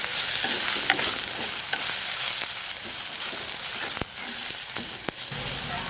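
Ginger frying in a pan over a low flame for fish curry: a dense, hissing sizzle runs throughout, with occasional light stirring clicks, close and steady with no voices.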